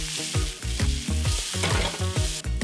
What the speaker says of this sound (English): Saute these until they soften.